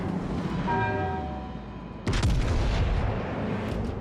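Heavy warship main guns firing in a naval video game: a low sustained rumble with engine tones, then a sudden loud broadside blast about halfway through, followed by rolling echoes and smaller cracks.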